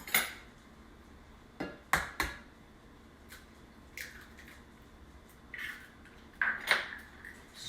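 Salmon and a single egg are stirred together in a mixing bowl for salmon patties, giving quiet, scattered clinks and scrapes of a utensil against the bowl with some soft wet squishing, irregular and close, with no talking.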